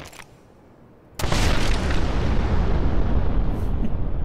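Explosions in the game Rose of Meat: a sudden loud blast erupts, then a dense, sustained roaring rumble fills the rest of the moment with no speech over it.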